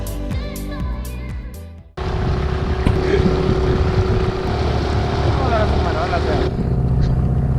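A motorboat on Quilotoa crater lake in Ecuador starts up after a brief quieter moment, then drones loudly and steadily with heavy wind buffeting against the microphone, easing slightly near the end.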